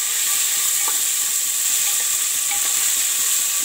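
Vegetables frying in a pan for a mixed vegetable curry, giving a loud, dense, continuous sizzle and hiss with a few faint scrapes of stirring.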